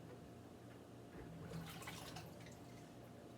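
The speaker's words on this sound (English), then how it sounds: "So now I'm going to let my water out of my sink." Water drains out of a kitchen sink in a home, a steady soft gurgling and trickling wash with brief drips, close and fairly quiet, no voices.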